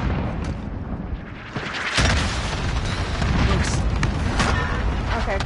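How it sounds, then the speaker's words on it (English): Cluster strike explosions in the video game Modern Warfare boom heavily in a dense rumbling barrage, with sharp cracks breaking through the roar, and someone talks over it. "Hello, cluster strike inbound."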